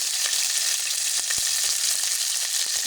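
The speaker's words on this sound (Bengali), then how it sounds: "হলুদ দিয়ে কিছুক্ষণ নাড়াচাড়া দিয়ে ভেজে নেব" Tengra fish fries in hot oil with garlic paste, cumin paste, salt and turmeric, giving a loud, dense, continuous sizzle with light crackles, close up and with no talking.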